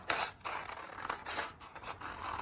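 Scissors snip through paper while cutting out a portrait, with a run of quiet, close, irregular crisp cuts and slides and no talking.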